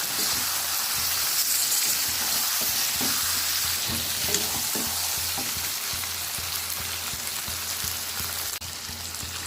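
Ginger garlic paste frying in oil for a Bengali bhetki fish curry as turmeric goes in, a constant close sizzle with rhythmic spatula scrapes and taps against the pan.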